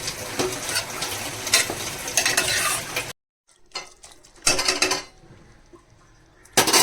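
A spoon scrapes and clatters around a pan of Malvani-style liver in masala over a gentle sizzle, stopping for a moment of silence before the stirring resumes in short bursts.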